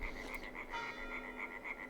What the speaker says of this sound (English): Definitely got some frogs.